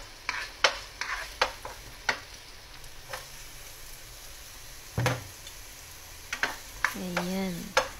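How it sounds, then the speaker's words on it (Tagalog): Garlic and onion being sautéed in a little oil in a pan for chicken hamonado, with a faint low sizzle under sporadic spatula scrapes and taps. "At igigisa na natin yung bawang at sibuyas."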